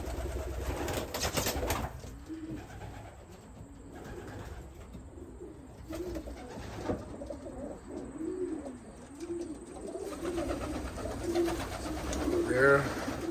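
Young racing pigeons in a loft coo in soft, repeated throaty phrases, steady and fairly near, with wing rustles and a voice occasionally heard around them.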